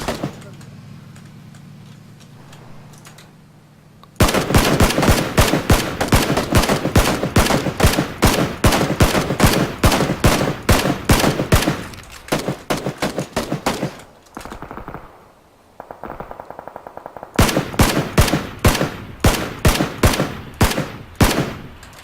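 Rapid bursts of automatic gunfire in a multiplayer battle-royale video game, aimed at a UAZ vehicle; long rattling volleys with short pauses, loud and close, with brief talk among players.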